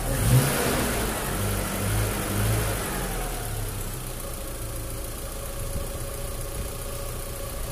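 A freshly overhauled Mitsubishi van engine runs close by, revving at first with a rough, knocking edge, then settling into a steady idle; no talking.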